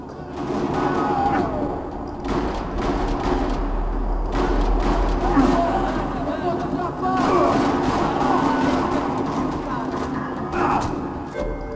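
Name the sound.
gunfire in a parking lot, from the video game Max Payne 3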